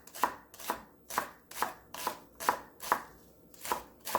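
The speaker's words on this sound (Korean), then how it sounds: "풋마늘 총총 썰어주세요." Green garlic chopped finely with a knife on a board: nine crisp, evenly spaced chops about half a second apart, close and distinct, with no voices.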